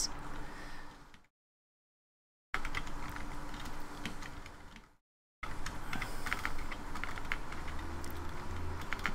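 Rapid typing on a new computer keyboard, a close, dense patter of key clicks in two bursts broken by short silences, with no talking.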